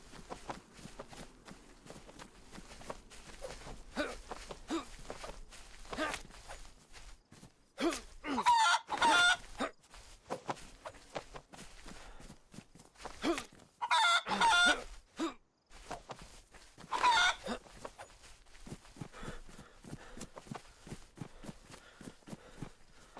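Chickens cluck and a rooster crows inside a chicken coop in the DayZ video game, with busy bursts of clucking close by over steady footsteps crunching along.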